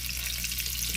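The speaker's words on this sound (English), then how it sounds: "go ahead and add our shrimp in, and like I said, we're not going to fill this skillet up at all because we want a good we want a good fry" Shrimp frying in a skillet with room to spare, a dense crackling sizzle with a low steady hum beneath, continuous and close for a brief moment.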